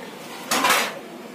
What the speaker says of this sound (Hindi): और इसके ऊपर मैं एक ढकना ढक दूंगी